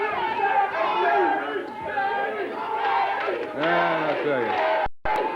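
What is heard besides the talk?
wrestling crowd chanting for Jerry Lawler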